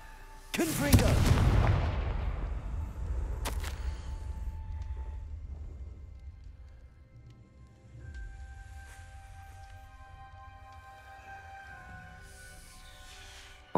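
A Confringo fire-blast spell in Hogwarts Legacy bursts with a heavy booming explosion, followed by a sharp crack and a long rumbling fade, with quieter magical shimmer later.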